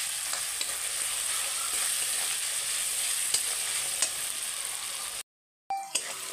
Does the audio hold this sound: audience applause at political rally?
no